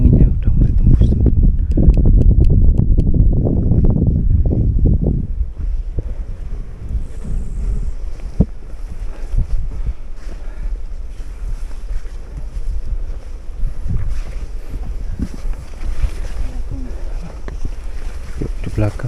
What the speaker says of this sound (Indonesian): Sampai sini anginnya udah mulai tembus tuh.